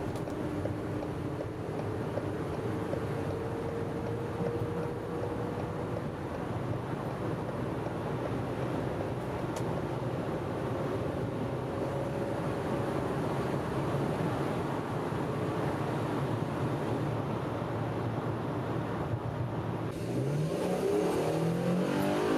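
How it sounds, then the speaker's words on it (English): A big heavy 2018 Ford Transit van accelerates gently onto a highway, its engine a steady low drone under wind and road noise, rising slowly in pitch, with a gust of wind buffeting near the end. "This is just merging onto the highway, and I'm trying to keep the throttle as closed as possible."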